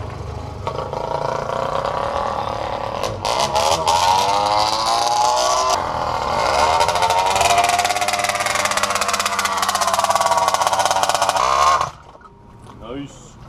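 A motorized bicycle's small engine fires up and runs with a buzzing, revving drone that rises and falls for about twelve seconds before cutting off, with someone talking over it.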